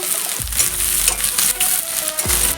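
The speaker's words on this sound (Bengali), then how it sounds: "এবার পেঁয়াজটা ভেজে নেব।" Three medium chopped onions fry loudly in hot oil with bay leaf for a chicken curry, a dense continuous sizzle with a couple of spatula scrapes and stirring knocks.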